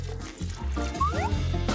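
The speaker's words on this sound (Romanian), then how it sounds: "acum punem presa și turnăm cafeaua" Hot coffee pours into a French press with a glugging, rising fill and a few drips, close and fairly quiet, with no voices.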